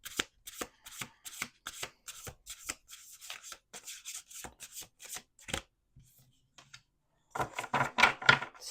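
A deck of cards shuffled by hand in quick riffling bursts, close and crisp, with a short pause before a louder final shuffle; no speech over it.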